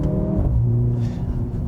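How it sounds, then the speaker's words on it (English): Engine of a 2025 Mercedes-AMG GLC 43 luxury SUV hums and revs in a loud low drone from inside the cabin, with no distinct exhaust pops or crackles standing out. "It also has the nice pops and crackles from the exhaust"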